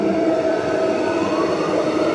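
A B series electric train on Perth's Ellenbrook Line rumbles steadily at close range, a dense even roar with no voices.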